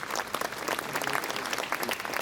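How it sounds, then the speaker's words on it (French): A French political audience breaks into dense, steady applause, a broad wash of clapping that carries on evenly at moderate loudness. "que je vous demande d'applaudir."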